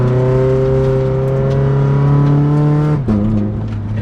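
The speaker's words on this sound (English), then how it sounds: "it goes out that great ass 3-inch exhaust that's completely straight piped" A turbocharged Subaru FRS with a straight-piped 3-inch exhaust accelerates hard with a loud, rising engine note, then a brief dip at a gear change before it pulls again, close and alone.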